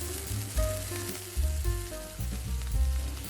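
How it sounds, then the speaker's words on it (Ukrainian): Flat minced-meat patties for burgers frying in a pan, a steady close sizzle with soft shifts as the patties settle, accompanied by quiet background music with no talking. "Викладаю фарш і виходять ось такі плоскі котлетки. Обсмажую їх."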